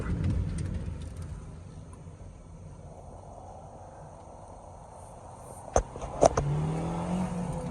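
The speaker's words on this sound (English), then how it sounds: "we'll give it some gas and get across the road here." A 2013 Honda Civic Si coupe with a 2.4 engine pulls away under throttle, its engine a steady low drone heard from inside the car, with a couple of sharp clicks near the end.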